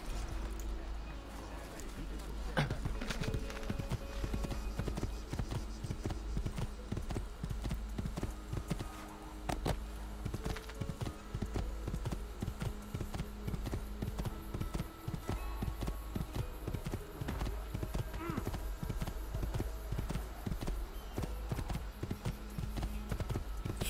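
Steady clip-clop of horse hooves at a walking pace while riding in Assassin's Creed II, the repeated footfalls running close and fairly loud throughout under a low ambient game backdrop.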